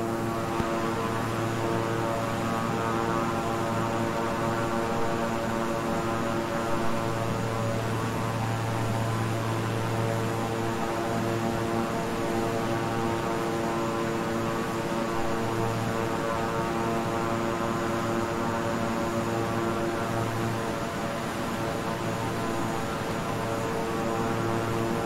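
Twin-engine King Air 350i in Microsoft Flight Simulator, the propeller engines holding a steady, dense drone with layered tonal hum throughout, unchanging and fairly loud with no voices.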